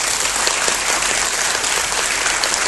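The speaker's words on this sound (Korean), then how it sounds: "여러분도 한번 박수 한번 주셨으면 좋겠습니다" A Korean cinema audience at a special talk after a 35mm film screening gives loud, dense applause for the projectionist, sustained and even from start to finish.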